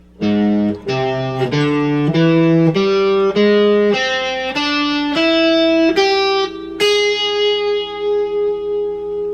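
A distorted electric guitar plays a rising scale note by note, each pick sharp and clear, ending on a sustained ringing note with reverb.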